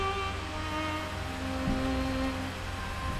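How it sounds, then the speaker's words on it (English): Steady rain falls continuously, a soft broadband hiss mixed with a low sustained droning tone throughout, no voices. "that's just the rain"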